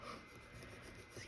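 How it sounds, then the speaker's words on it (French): Eraser rubbing out pencil writing on paper, a faint continuous scratchy rasp lasting just over a second. "moi je vais gommer du coup"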